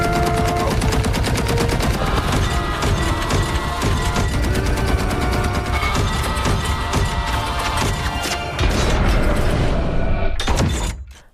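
War-film battle as Chinese soldiers fire on an American plane: dense, continuous machine-gun and cannon fire in rapid bursts, loud and close, ending in a sharp final blast before cutting out.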